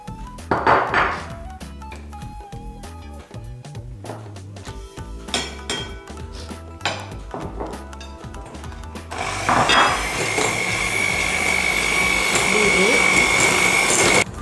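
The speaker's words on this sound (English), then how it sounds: "first we need to beat the butter and brown sugar together until" Butter and brown sugar are beaten together in a bowl, first with clinks and knocks, then from about nine seconds with a steady, loud mixer whir that runs to the end.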